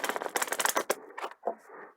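Tarot cards are shuffled by hand close up: a rapid burst of crisp riffling clicks, then a few softer slides and taps.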